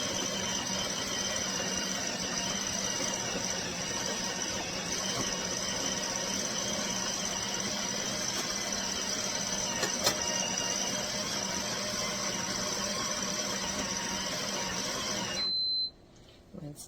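Built-in coffee grinder of a Ninja Luxe Café Premier Series espresso machine grinding beans, a steady close mechanical whir with a high whine that holds for about fifteen seconds and then abruptly stops.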